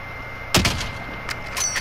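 Sharp gunshot in a video game, one loud close crack followed by a couple of quieter shots over a steady low background.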